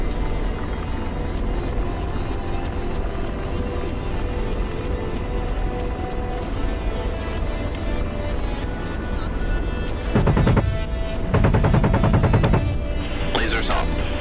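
Gunfire in a video game war server set in Syria, with rapid machine-gun bursts over a steady engine roar of aircraft, loud and continuous.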